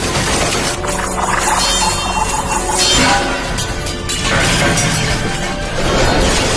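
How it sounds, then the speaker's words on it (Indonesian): Throwing knives fly everywhere and smash equipment in a chaotic fight, a loud, continuous crashing and shattering din with repeated impacts and breaking clatter throughout, no voices. "Pisau-pisau lempar berterbangan kemana-mana, menghancurkan banyak peralatan."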